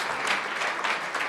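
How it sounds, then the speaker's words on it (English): An audience at a youth church service gives a round of applause, brief close clapping with a steady dense texture and slight swells, with no talking over it. "Let's give him another round of applause."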